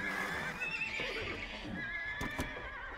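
Horses neigh and whinny over steady clip-clopping hooves in the video game Age of Empires II, with a couple of sharp clicks near the end, all loud and close.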